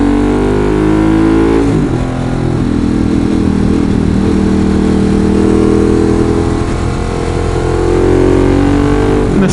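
Ducati 916 motorcycle engine accelerating on the road, a loud, close, continuous roar with rising pitch sweeps as it revs through gears, dominating with no speech.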